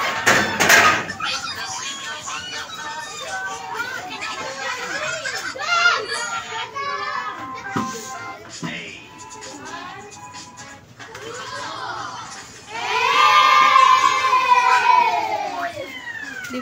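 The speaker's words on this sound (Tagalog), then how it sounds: "Maingay dito guys kasi maraming mga bata" Many children play and shout nearby, with overlapping high voices, squeals and chatter throughout and a loud burst of excited yelling near the end.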